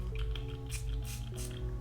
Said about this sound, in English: Okay, that's a nice mist.